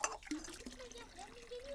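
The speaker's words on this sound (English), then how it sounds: "it is coming out of the natural spring. So it is drinkable water." Cold, drinkable natural spring water runs from a village spout in Turkey where a cup hangs on a chain, a faint, soft trickle and gurgle heard from close by.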